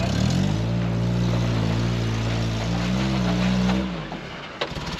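A manual-transmission vehicle's engine straining and revving while driving through soft sand, a loud, steady drone with shifting pitch that drops away near the end, heard close up.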